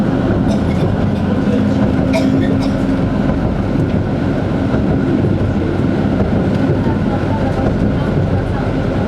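Tram on line 15 in a Polish city rolling along the track with a loud, steady rumble and wheel noise heard from on board, while people talk over it.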